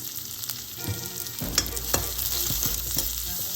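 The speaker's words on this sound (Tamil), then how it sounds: "அந்த கிழங்க சேர்த்து நாங்கள் ஒரு நிமிஷம் நல்லா வதக்கிக்கணும்" Elephant foot yam pieces are stirred and sautéed in a hot pan with curry leaves, a close sizzle broken by several scraping stirs of a spatula, with no speech.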